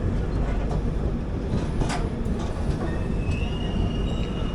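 Kondaveedu Express passenger train running between Yesvantpur and Guntur, heard from on board as a steady, loud rumble of wheels on rails with faint squeals and clicks throughout, no talk.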